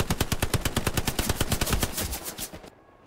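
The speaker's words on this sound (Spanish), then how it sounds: "disparan de tu derecha, ¿eh?" Sustained automatic gunfire from the World War II shooter Hell Let Loose, a rapid, loud, evenly spaced burst of shots lasting over two seconds before cutting off into quiet.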